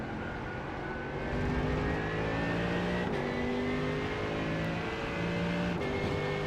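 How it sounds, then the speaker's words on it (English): A faster race car closing in and passing in the iRacing sim, with its engine note rising and falling, loud and steady behind the player's own droning motor, two gear-shift dips along the way. "Faster car coming up quick."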